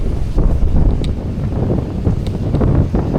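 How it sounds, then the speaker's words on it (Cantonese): Strong wind buffets the microphone on an exposed island shore, with loud, gusty rumbling that rises and falls throughout and no voices. "咁鬼大風"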